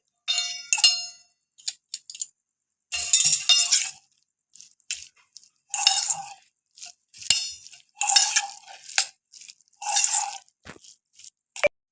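Korean-style noodles being stirred and tossed with seasoning in a pan, giving repeated short bursts of scraping, clattering utensil sounds separated by quiet gaps, close and fairly loud.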